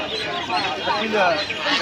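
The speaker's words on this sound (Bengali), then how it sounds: "চীনা হাঁস এগুলো" Chinese ducklings at a poultry and bird market, a close chorus of rapid, overlapping high peeping and quacking calls, steady and busy throughout.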